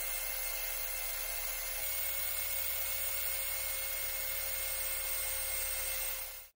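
A power drill with a 3.5–4 mm bit bores holes through a pair of old steel wire cutters, making a steady, continuous grinding whine that runs close and loud for the whole stretch without talk.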